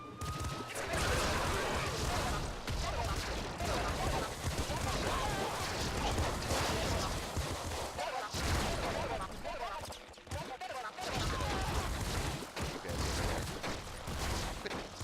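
Sawed-off shotgun blasts in the video game Nuclear Throne, repeated heavy shots and crashing impacts layered over busy game noise and a talking voice, loud and fairly continuous with a brief lull near the end.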